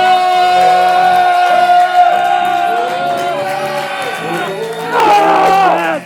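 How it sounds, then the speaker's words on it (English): A late-night talk show studio audience cheers and whoops loudly, with crowd shouting and a host's raised voice over the din, the excitement surging again near the end. "I want to get the round of applause going."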